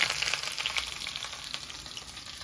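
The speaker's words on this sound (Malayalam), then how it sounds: "കടുക് പൊട്ടിക്കാൻ ഇട്ടിട്ടുണ്ട് ആദ്യം തന്നെ. പിന്നെ ഇതാ ചുവന്ന ഉള്ളി ഉണ്ടല്ലോ, ചെറുങ്ങനെ മുറിച്ചിട്ടുണ്ട്" Mustard seeds, finely cut small red shallots and curry leaves fry in hot oil in a home kitchen. A close, continuous bright sizzle with scattered crackles slowly eases off, and no one speaks.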